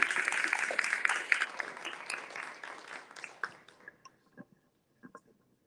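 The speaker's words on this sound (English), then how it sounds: "A round of applause." Audience applauding an author about to speak at a book event in San Diego, a dense burst of clapping that thins out and trails into a few scattered claps.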